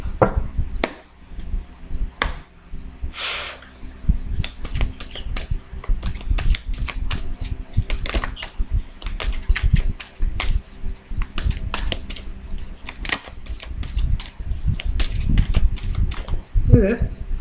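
Tarot cards being cut and shuffled by hand, a quick, dense patter of papery riffling and tapping, close by, with a voice talking over it at times.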